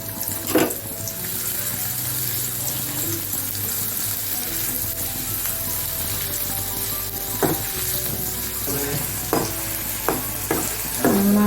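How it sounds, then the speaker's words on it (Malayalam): Chopped onion frying in a pan for an etta fish curry gives a steady, close sizzle throughout, with a few sharp spoon or pan knocks near the end and no talking. "ലേശം ഉള്ളി ചെറുതായി കട്ട് ചെയ്തിട്ട് ഈ കറിയിൽ വറുത്തിടാൻ വേണ്ടിയിട്ട്"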